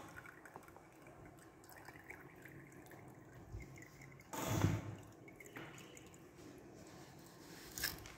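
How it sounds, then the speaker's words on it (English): Water from a sand aggregate sample poured through filter paper: a short splashing gush midway, with faint trickles and drips before and after in an otherwise quiet room. "gradually I am pouring this through filter paper. Only water will go out"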